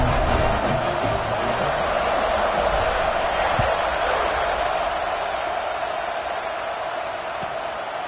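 A football stadium crowd roars before a college kickoff, a steady broad wash of cheering that fades slightly toward the end, with an announcer's voice over it.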